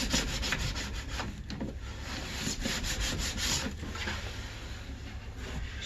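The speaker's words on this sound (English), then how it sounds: "scraping the base wax off." Base wax is being scraped off Madshus rental skate skis with continuous rasping strokes, close and fairly steady, with faint repeated pulses and no speech.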